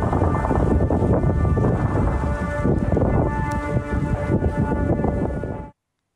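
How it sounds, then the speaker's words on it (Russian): Shelling in Nagorno-Karabakh brings a loud, continuous, roaring rumble of blasts with a steady wailing tone like a siren running through it, ending abruptly. "В сети тем временем появляются видео, на которых слышны взрывы и сирены."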